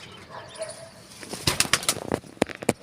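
A dabba-breed pigeon beats its wings in a burst of sharp, rapid flaps that start about halfway through, close and loud, after a quieter stretch of faint background noise.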